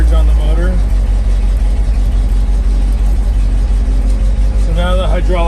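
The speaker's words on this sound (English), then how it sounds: "Let it out slowly, it'll start driving the pump. Hear the surge on the motor." A GMC 7000 boom truck with a big block 366 engine drives its hydraulic pump in a loud, steady, close-up engine drone that holds for the whole stretch, with voices talking briefly at the start and near the end.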